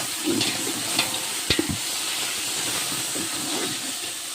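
Mint leaves stirred into a large pot of biryani cooked for a charity meal, giving a continuous steamy hiss and sizzle with a few clattering stir strokes near the start, no voices.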